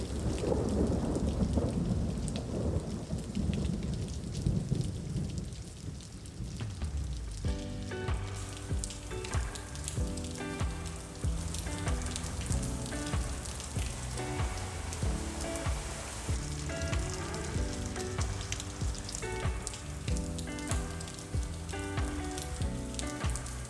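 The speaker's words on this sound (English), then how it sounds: "While the rain continued outside" Steady rain pours down with rumbles of thunder, then a music-like tonal pattern rises over the continuing downpour.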